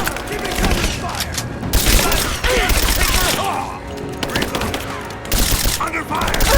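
Dense gunfire and booming explosions from combat in the 2015 action game Rise of the Tomb Raider, with overlapping rapid shots and blasts sustained throughout and shouted voices mixed into the din.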